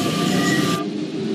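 An MP89 rubber-tyred metro train rolls along Paris Métro line M1 in a simulation game, a steady rumbling hum of running gear with a faint tonal whine that drops away partway through.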